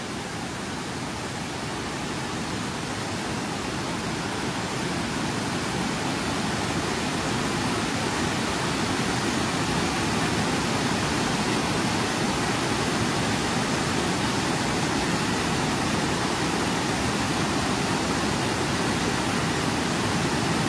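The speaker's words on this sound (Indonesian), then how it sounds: "karena airnya deras. Kalau misalkan terbawa arus itu langsung ke air terjun." Strong, fast river current rushing toward a waterfall, a dense, unbroken roar of churning water that stays steady and moderately loud for twenty seconds with no voices.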